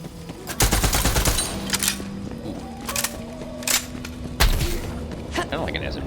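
A submachine-gun-style weapon in Borderlands 3 fires several short rapid bursts, loud and close, with a few thuds and game effects between them.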